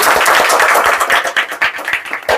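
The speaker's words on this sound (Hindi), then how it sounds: "उनके लिए जोरदार तालियां होनी चाहिए" A small group gives loud, brisk applause for a man from Basti who built a 28-foot Ashoka pillar at his home, with dense, uneven handclaps close by and no talking.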